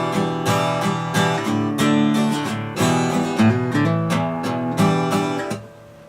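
Guitar hammer-ons and pull-offs played too fast and sloppily, a quick rhythmic run of plucked notes sounding close and clear before the final note rings out and fades, with no talking.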